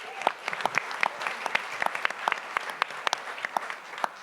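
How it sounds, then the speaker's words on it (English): A seated audience at a talks event gives a round of applause for a speaker, with sparse, distinct claps from a modest crowd, fairly close and steady. "Let's give him a round of applause."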